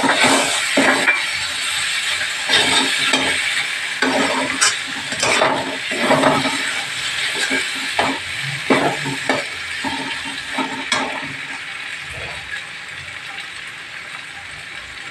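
Spices, turmeric and tomatoes fry and are stirred in a pan for mutton biryani, a steady loud sizzle broken by repeated scraping and clattering strokes of the spoon throughout.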